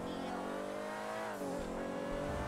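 A Range Rover in GTA 5 drives hard off-road, its engine droning loud and steady throughout with a brief pitch shift partway, joined by faint tire noise.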